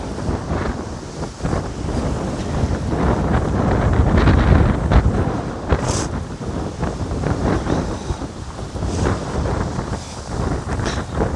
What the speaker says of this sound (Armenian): Քամի է ուժեղ։